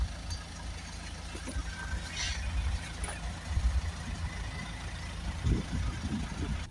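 A Peugeot 308 2.0 HDi diesel with a blocked DPF and low fuel pressure runs steadily at idle, a low continuous rumble close by with faint clanks and no talk over it.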